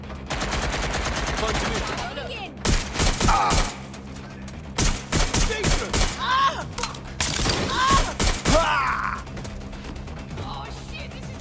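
Heavy gunfire in Watch Dogs Legion erupts in repeated loud bursts of rapid shots with brief pauses between volleys, while a voice briefly speaks amid the shooting.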